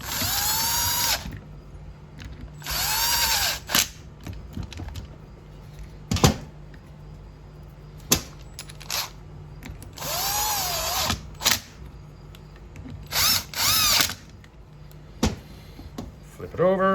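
A power tool drives bolts on an RV leveling pump in repeated whirring bursts of a second or so, rising and winding down, interspersed with sharp clicks and knocks of parts being handled nearby.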